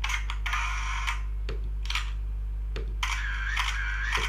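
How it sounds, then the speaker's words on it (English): Camera shutter sound effects from the Final Cut Pro X library play one after another, crisp mechanical clicks and whirs in short bursts, close and dry with no talking. "search camera shutter. Let's listen to this."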